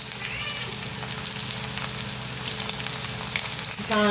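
Leftover cooked rice reheating in a pan gives a steady, close sizzle and crackle throughout, with a brief louder burst of frying near the end.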